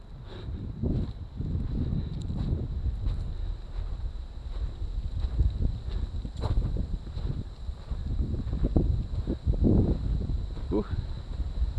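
Gusty wind on the shore of Murtle Lake rumbles against the microphone in uneven bursts, loud and close, rising and falling over several seconds.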